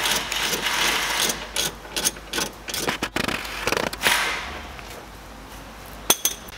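Ratchet clicking away at a 17mm bolt on the top seat belt mount of a Mk1 or Mk2 Mazda MX-5 during roll cage fitting, a series of quick close ratcheting bursts with brief pauses and metallic knocks.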